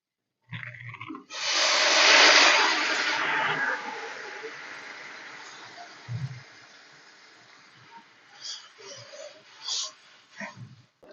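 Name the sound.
water boiling in a pan with paneer curry masala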